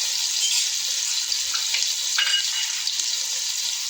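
About 100 grams of ginger garlic paste fries in oil over a medium flame, making a continuous close hiss with a few small crackles and no voices.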